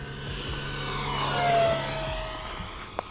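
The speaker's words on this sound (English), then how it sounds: "Abby, I'm going to do a full throttle pass." A small RC plane on a 3S battery makes a full-throttle pass, its electric motor whine rising to a peak mid-clip and fading as it flies by at a distance.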